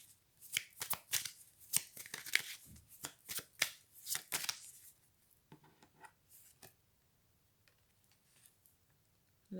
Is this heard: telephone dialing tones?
no